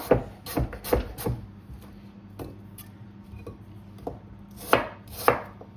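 Apples for an Austrian apple strudel are chopped on a board with a knife, a quick burst of close, sharp thuds, then sparse single cuts after a quieter pause.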